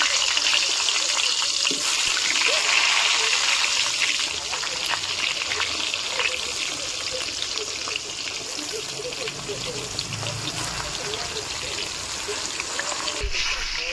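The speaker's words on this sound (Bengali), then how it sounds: "এবার বেগুনটা ভেজে নেব।" Eggplant frying in hot oil gives a steady, close, hissing sizzle that stays loud and even throughout, with faint crackles spattering over it.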